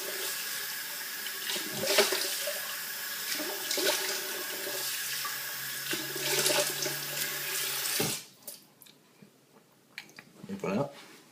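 Running tap water splashing into a sink while wetting the face before lathering soap, a steady close rush that stops abruptly, leaving a few faint drips and small handling noises.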